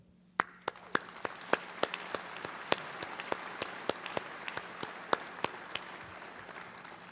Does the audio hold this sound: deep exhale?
no